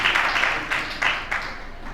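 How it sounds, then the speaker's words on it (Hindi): At a Jain religious gathering with a discourse by Acharya Saurabh Sagar, an audience applauds the president of a women's association, a few surging bursts of clapping that fade over two seconds, with some talk mixed in. "एक बार जोरदार तालियां इनके सम्मान में"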